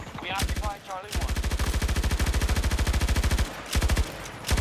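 Battlefield 2042 Repeater LMG fires in long sustained automatic bursts, a dense rapid rattle of loud close shots, broken by brief pauses and a couple of short bursts at the end, with no talk over it.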